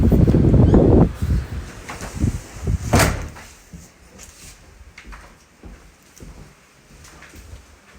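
A door at the historic Berry Hill plantation house is opened and closed, with a loud burst of handling noise at the start, a sharp knock or latch about three seconds in, then quieter shuffling and room sound.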